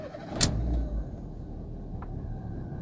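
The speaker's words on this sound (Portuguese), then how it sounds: "Vamos ligar o carro." A 2013 Fiat Idea that had a no-start fault cranks briefly and fires, then settles into a low, steady engine rumble close by.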